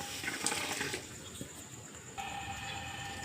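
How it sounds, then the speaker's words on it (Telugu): Half a litre of water pours steadily from a small metal pot into a vessel, a splashing gush that shifts in pitch partway through, fairly close with no voices. "అర లీటర్ నీళ్ళు పోస్తున్నాను"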